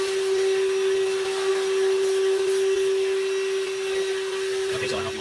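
A VacLife VL726 handheld vacuum cleaner runs steadily with a dusting brush attached, a loud constant whine with a strong steady tone, close and continuous, with brief scraping near the end.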